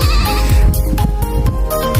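Goats bleating loudly and close by at a farm where chickens are also kept, with several overlapping, wavering cries in quick succession.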